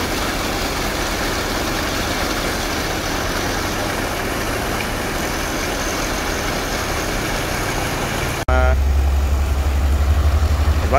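A sand pump engine runs at a building materials yard, moving sand from a boat into a stockpile. It gives a steady, rumbling drone, then abruptly shifts to a louder, heavier low throb near the end.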